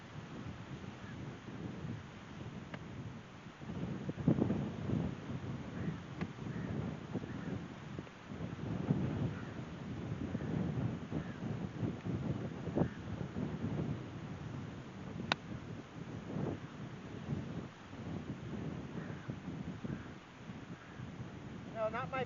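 Heavy wind buffets across an open golf course in Egypt, a continuous low rumbling roar with gusting swells, fairly loud and unbroken with no voices.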